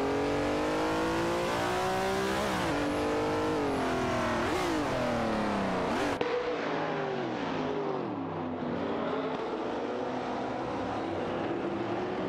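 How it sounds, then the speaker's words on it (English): Race car engines in a racing video game, a McLaren M6 GT and a Ford GT40 dueling, roaring loudly and continuously with rising and falling revs through gear changes, no talk. "There's an intense battle for the 15th spot between Amy in a McLaren M6 GT and Jaxka in a Ford GT40 MPOA."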